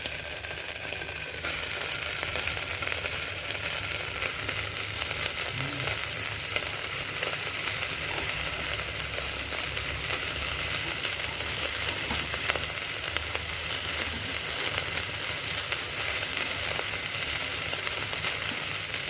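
Onions fry toward golden brown in a pan for spinach khichdi, a continuous dense sizzle and crackle held steady at close range for the whole stretch, with no talking.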